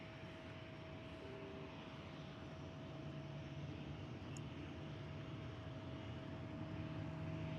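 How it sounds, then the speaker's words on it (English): A KLM Boeing 737-800 bound for Helsinki departs Amsterdam Schiphol Airport, its engines giving a steady, broad roar that builds slightly in loudness over several seconds with no voices. "KLM flight 1167. Going to Helsinki, Finland, 737-800."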